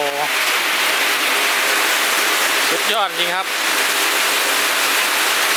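Heavy rain pounding on a corrugated metal roof, a loud, dense, continuous hiss and patter throughout, with someone briefly speaking over it.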